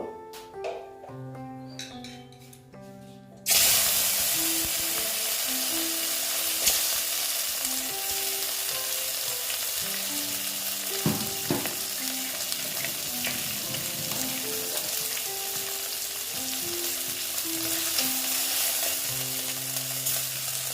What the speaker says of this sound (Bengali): দেখো এই মাছগুলো ভেজে নিচ্ছি